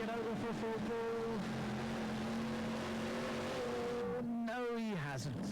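Pulling tractor with a Chevy 540 engine and 1071 blower at a European tractor pulling event in Sottrum, Germany, roaring loud and continuous under a commentator's voice, pitch holding steady then dropping sharply as the run ends.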